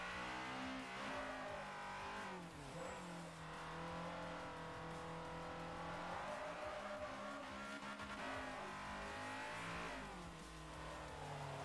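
Honda Civic racing in the video game Forza Motorsport 4 with front-wheel-drive oversteer, a loud, continuous engine drone rising and falling through gear changes, with tire squeal and skidding in the mix.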